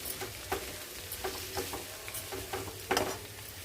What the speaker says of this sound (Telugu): చిన్న ముక్కలుగా కోసిన బీట్రూట్ ముక్కలు వేసేసుకుందాం. ఒకసారి కలిపేసుకుందాం.